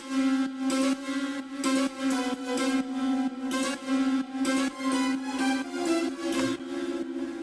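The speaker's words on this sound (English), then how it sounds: "It's the same instruments that I've already used, the Santur." A hammered santur plays a flowing melody of bright, shimmering struck notes in a steady rhythm, moderately loud and alone.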